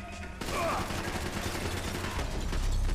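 Gunfire in the Max Payne 3 video game: rapid, continuous shooting breaks out after a short quiet moment and stays loud, with heavy low booms building toward the end. A voice can be heard faintly under the shots.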